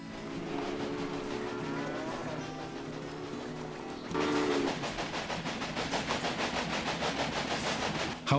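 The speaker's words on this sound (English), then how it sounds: "Okay, and there's our train." A steam-era locomotive runs through the Great Plains in the rail-building game Railway Empire, giving a steady mechanical rumble with rhythmic clatter that grows louder and denser about halfway through, heard alone without talk.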